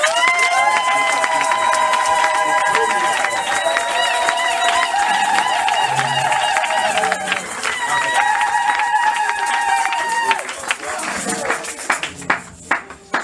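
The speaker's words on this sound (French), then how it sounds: "Est-ce qu'ensemble on peut acclamer et donner gloire?" A church congregation on its feet, cheering and acclaiming: a dense, loud roll of shouting voices, whoops and clapping that surges and then thins near the end.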